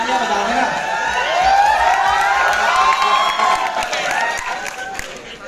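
An audience at a university induction program for new students cheers, whoops and shouts, a loud swelling crowd roar with some clapping that peaks early and then slowly fades.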